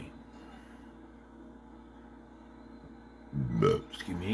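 A man watching wrestling at home lets out a short, close burp near the end, after a few seconds of low room hum; a faint second gulp follows.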